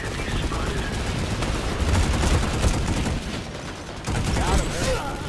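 Bursts of automatic gunfire in a first-person shooter game, rapid overlapping rattles from nearby that keep going throughout the short stretch.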